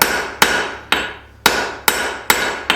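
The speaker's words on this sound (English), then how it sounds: "should be able to swing the hammer a little bit more confidently" Heavy hammer blows strike hot metal while forging a candle holder, six sharp ringing impacts at a steady, unhurried rhythm, each decaying before the next, with no talk.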